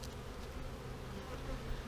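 Honeybees buzzing steadily around an opened hive during a Snelgrove board hive inspection, a dense continuous hum filling the air with no talk.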